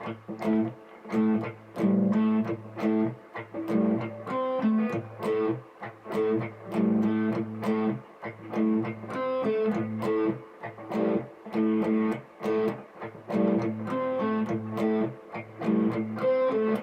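A distorted electric guitar chugs through a steady, repeating chord riff, loud and continuous with rhythmic accents and no voices.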